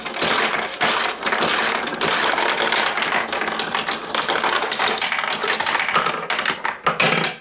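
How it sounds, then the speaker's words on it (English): A pachinko machine launches steel balls in a rapid, continuous metallic clatter of taps and rattles, loud and close, with brief gaps near the end. "So you could hear it launching the balls in"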